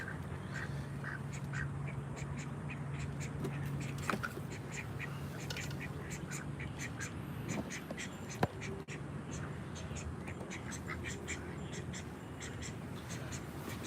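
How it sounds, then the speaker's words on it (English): Ducks quacking at a community pond in Phoenix, repeated short quacks at a steady pace over a constant outdoor background, with a few sharp clicks and taps nearby. "These ducks are coming to hang out."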